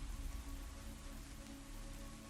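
Light rain falls steadily as played background ambience, a soft even hiss of drops on surfaces with a low rumble beneath, constant throughout with no voices.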